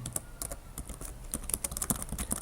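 Someone types a command on a computer keyboard, a quick irregular run of crisp key clicks heard close and fairly quiet, with no talking.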